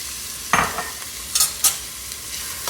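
Diced onions stirred in a pan of hot cooking oil, with a few short scraping strokes and gentle sizzle between them, close and moderately loud, no talking.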